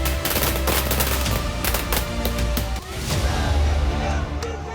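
Rapid crackling bangs of fireworks celebrating a Women's Cricket World Cup win go off in quick succession, loud and dense, over a noisy crowd with voices and a low rumble.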